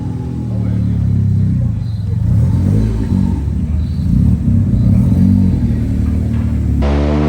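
Cosworth car engine on a rolling road dyno, a loud, sustained deep rumble with revving that holds steady for about seven seconds before the note shifts near the end.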